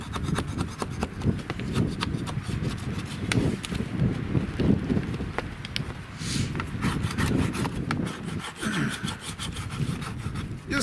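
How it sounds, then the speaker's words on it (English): Undercoating being scraped off a car radiator shroud during an auto restoration, a steady run of rough, rasping strokes with repeated sharp scrapes, close and fairly loud with no talk over it. "But I gotta get all of this undercoating off of here."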